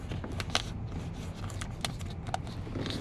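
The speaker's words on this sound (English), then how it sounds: "That's right, duct tape." Duct tape is pulled off the roll in quick ripping bursts and torn while someone rigs a loose part on a low-mile 1972 Corvette, the short crackling tears close and fairly quiet.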